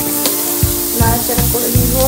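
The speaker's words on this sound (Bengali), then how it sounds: "তো পেঁয়াজটা একটু তেল দিয়ে দিলাম" Onion sizzles steadily in hot oil in a pan, the base for hilsa fish do-peyaji, with several soft stirring scrapes breaking through the continuous frying crackle.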